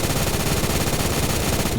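Continuous rapid automatic fire from a 7.62x51 rifle in the Phantom Forces video game, a dense, loud, unbroken stream of shots with no pauses.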